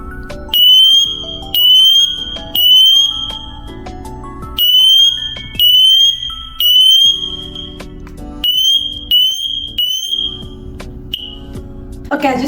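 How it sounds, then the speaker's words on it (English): A SITERWELL GS509A smoke detector sounds its piercing, high-pitched alarm in loud repeated bursts of about three beeps each, with pauses between the groups. "the alarm is really loud"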